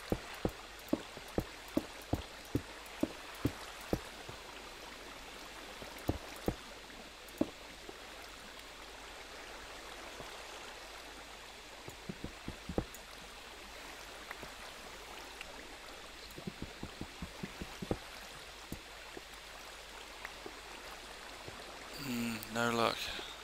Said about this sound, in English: This water flow needs fixing,